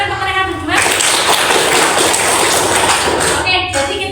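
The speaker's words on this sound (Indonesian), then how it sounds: "Tepuk tangan untuk mereka berdua." A madrasah classroom of students breaks into applause, a loud, dense burst of many hands that starts abruptly after a brief spoken moment and holds steady, then tapers near the end.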